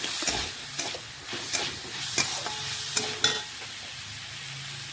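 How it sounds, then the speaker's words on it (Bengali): Potatoes sizzle and fry in a pan while being stirred, with a steady close hiss broken by several sharp scraping stirs, heard alone without talk. "একটু আলুগুলো ভেজে নিচ্ছি।"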